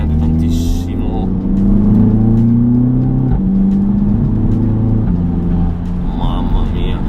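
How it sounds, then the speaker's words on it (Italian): Audi TT mk3 (8S) with a VR600 intake and a Revo Stage 1 Plus remap of engine and gearbox, revving while driving: a close, loud engine drone that climbs in pitch and holds steady throughout. "ha un'aspirazione VR600 e si sente tantissimo"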